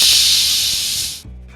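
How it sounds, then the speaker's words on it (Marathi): A pressure cooker cooking vegetable pulao releases steam through its whistle in a loud, steady, close hiss that cuts off abruptly, leaving a low hum. "आता आपण कुकरला झाकण लावून घेऊया आणि शिट्या काढून घेऊया"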